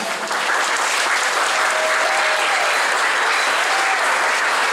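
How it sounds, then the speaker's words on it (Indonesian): Sustained applause from a crowd of students at a Monday school flag ceremony in Surabaya, steady and fairly loud for several seconds, honoring the ceremony officers. "Beri aplaus untuk petugas upacara."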